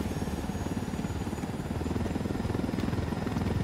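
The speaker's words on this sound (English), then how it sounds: "We're taking this helicopter over to where they need it" Helicopter in the video game Ghost Recon Wildlands, a continuous rotor thrum and engine drone at moderate, even level for the whole stretch, with no talking.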